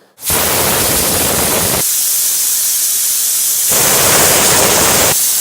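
A pressure cooker on a stove vents steam in a loud, steady hiss, with no speech, while arisi paruppu sadam (rice and lentils) cooks. The hiss surges and falls back in long stretches.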